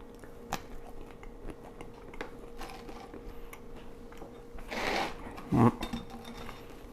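Someone bites into and chews a slice of 24-hour fermented sourdough bread, with faint crunchy clicks and soft mouth sounds close to the mic and a louder burst of crumbly chewing toward the end.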